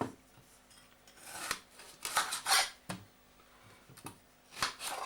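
Peeled potatoes being chopped for mash with a knife, giving a few sharp, irregularly spaced knocks against a board mixed with brief scraping and rubbing, close and fairly clear, with no talk.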